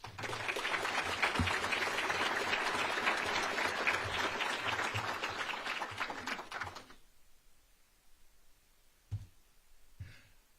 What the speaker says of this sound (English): Ladies and gentlemen, once again, the nice round of applause for the governor, Josh Green.